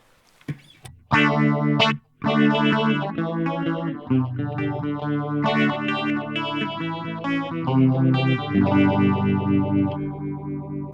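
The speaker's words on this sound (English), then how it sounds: "So here's a phaser on a clean setting." Clean electric guitar chords and notes through a Roland Cube amp ring out with a sweeping, swirling phaser effect, played steadily for several seconds.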